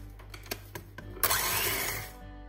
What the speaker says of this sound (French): Puis on ajoute le beurre qu'on a coupé en petits morceaux pour que ce soit plus facile et on bat avec le mixeur.